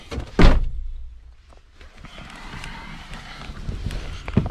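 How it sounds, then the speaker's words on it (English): A Fiat Ducato passenger door is opened by pulling its handle, giving one close, solid thunk from the latch. Quieter shuffling and handling noises follow, along with faint background sounds. "Pulling the handle opens the door."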